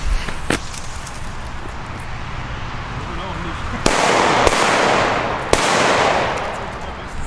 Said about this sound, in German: Und die nächsten Böller.